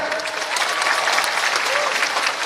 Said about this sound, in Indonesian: Sekali lagi kita berikan aplaus buat Mas Ganjar